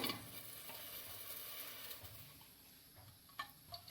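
Ghee sizzles and crackles in a hot cooking pot while butter chicken is made at home, a soft steady frying hiss with a few small pops and stirring clinks near the end.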